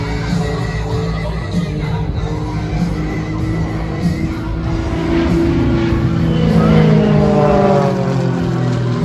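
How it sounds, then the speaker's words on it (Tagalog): An Extra 300 propeller aerobatic plane makes a low display pass by the crowd at an air show on a runway. Its droning engine swells and rises in pitch as it nears, loud and continuous, with no talk over it. "These guys are pulling off, the best aerobatic displays that we are witnessing right now"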